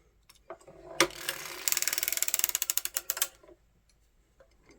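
A hand-cranked circular sock knitting machine gives a fast, even run of about twenty mechanical ratcheting clicks, close and crisp, framed by quieter handling knocks before and after.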